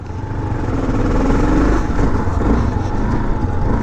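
Adventure motorcycle pulling away, its engine a steady mid-pitched rumble that rises slightly as it rides off, close and fairly loud.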